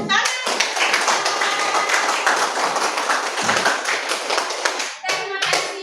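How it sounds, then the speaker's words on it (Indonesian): A classroom group clapping for a student after a Quran recitation, dense continuous hand claps with a brief dip near the end, loud and close, with a voice faintly mixed in. "Iya, tepuk tangan."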